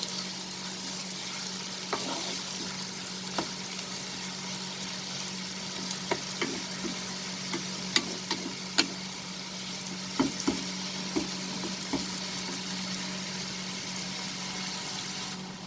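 Onions saute in a pan with a soft, continuous sizzle and scattered clicks of a stirring spoon, moderately quiet and close, with no voices.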